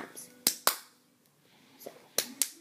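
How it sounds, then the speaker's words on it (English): Two sharp hand claps open the cup song routine, close and distinct, followed after a pause by a few lighter claps or taps in a quiet room. "So first clap two times"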